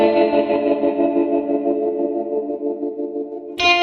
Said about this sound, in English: Slight use of the vib arm on here when they're playing a chord.